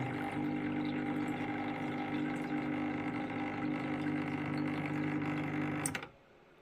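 Electric water pump motor filling a household tank, a steady loud droning hum with water rush that runs unbroken for about six seconds, then cuts off abruptly at the automatic shutoff.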